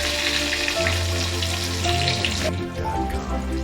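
Pre-steamed, salted potatoes frying in the oil left over from frying eggs, giving a continuous, dense hissing sizzle that stays loud and close throughout, with no talking.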